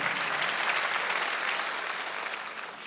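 Steady, dense applause from a church congregation during a Sunday service, loud and sustained throughout with no pauses.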